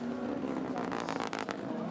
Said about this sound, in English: engine sound is interesting